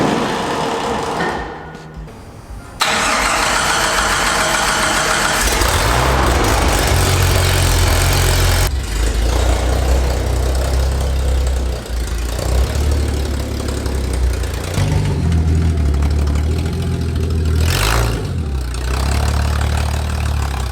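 A 1988 Jeep Wrangler YJ on oversized 40-inch tires drives on a test run, its loud engine droning steadily with a deep low rumble throughout after a brief dip near the start.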